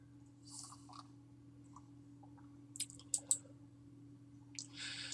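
A few sharp computer mouse clicks, faint and isolated amid a quiet background hum, while navigating a Divi theme eCommerce page on a computer.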